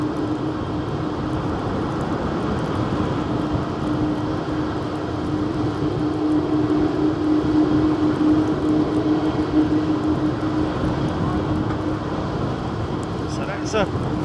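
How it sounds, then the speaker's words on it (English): An aircraft rolls down the runway on its takeoff run at Helsinki Vantaa Airport, its engines a sustained broad roar with a steady hum, heard from a distance for the whole stretch, with a voice talking over it. "So that's literally a quick run down the runway for that crew."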